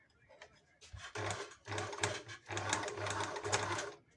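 A domestic sewing machine driven by an adapted generic pedal runs in repeated bursts, a busy rattling whir that starts and stops several times, with faint talk at the start.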